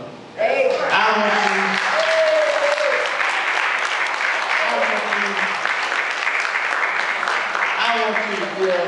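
A church or rally crowd in Georgia breaks into loud, sustained applause after a Southern Christian Leadership Conference guest is called up, clapping continuous and close, with a speaker's voice talking over it at moments.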